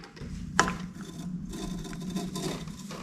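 Gritty, rusty scraping from the rear of a 1978 Kawasaki KZ1000 motorcycle, a steady close rasping rub with one sharp click near the start, no talking.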